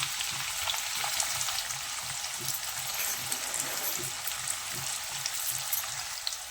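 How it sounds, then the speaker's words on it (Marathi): Onion sizzling in hot oil while a spinach chicken pulao is cooked: a steady, bright crackling fry with occasional soft stirring knocks underneath, close and continuous, no voices. "तेल गरम होऊन द्यायचं चांगलं कडकडीत आणि यामध्ये ना हा कांदा असा करून घालायचं"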